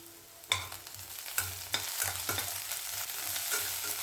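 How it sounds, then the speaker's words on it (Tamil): Onion, curry leaves and mint being sautéed in a pan for tomato gravy, with steady frying sizzle broken by repeated scraping strokes of a spoon against the pan, close and fairly loud. "வெங்காயம், கருவேப்பிலை எல்லாத்தையும் சேர்த்து நல்லா வதக்குங்க."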